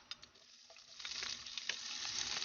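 Onions dropped into a hot pan for a mussel dish sizzle steadily and grow louder, with faint stirring clicks, close by and without speech.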